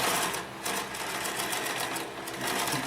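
A Consew 227R-2 cylinder arm walking foot sewing machine runs a short seam through six stacked layers, its rapid needle clatter steady and close, easing briefly before picking back up.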